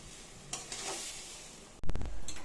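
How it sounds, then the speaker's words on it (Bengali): Pulao rice frying in a pan with spices, a soft sizzle broken by a few sharp scraping stirs near the end, close and alone. "চালটা ভেজে নিই। তার আগে কাজু কিশমিশ দারচিনি লবঙ্গ এগুলো সব ভেজে নিয়েছি।"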